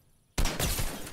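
A sudden loud gunshot in Fortnite Battle Royale, a sharp crack after near silence followed by a short rattling burst and echoing tail.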